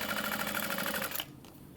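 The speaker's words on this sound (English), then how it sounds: "I'm just going to chain stitch this" A sewing machine chain stitches a fabric Scottie Convertible Bag at a 4.5 stitch length, a fast, steady mechanical chatter running close for about a second before it stops abruptly.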